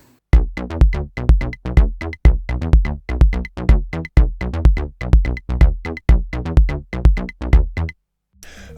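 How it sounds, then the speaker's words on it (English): Korg Volca drum machine and Volca Bass play a Chicago house groove together, a loud, steady four-on-the-floor pulse of punchy kicks and buzzy bass notes with bright hi-hat ticks, running for several bars before stopping abruptly. "so now we have drums and bass"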